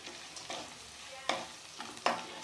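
Onions and chana dal sautéing in a pan for poha upma, giving a soft continuous sizzle broken by a few sharper scrapes of stirring, close and fairly quiet.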